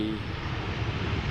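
An airplane landing at Amsterdam Schiphol Airport, a steady loud engine roar heard at a distance, broad and rumbling with no break over the short stretch.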